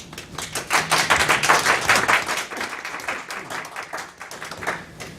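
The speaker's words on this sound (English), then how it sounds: "Yeah, I'm gonna clap." Clapping from a small group of people at a county council meeting, a steady patter of hand claps lasting several seconds at moderate loudness, with no speech over it.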